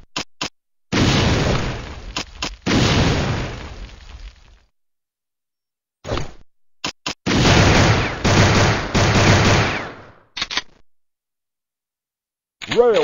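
Napalm weapon in a Metal Slug-style side-scrolling shooter fires in loud, crackling bursts, several blasts with short gaps and a longer sustained roar of fiery explosions in the middle, ending in silence.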